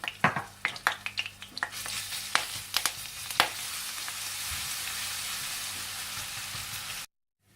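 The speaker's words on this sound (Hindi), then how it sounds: "इसमें आप लहसुन डालकर हल्का सा गोल्डन ब्राउन कर लें।" Garlic frying in hot oil: a few sharp stirring clinks up front, then a steady close sizzle and hiss that runs until an abrupt cut to silence.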